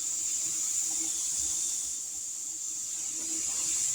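Pressure canner venting steam while canning corn, a steady high airy hiss that holds evenly throughout, with a faint low hum underneath and no talk.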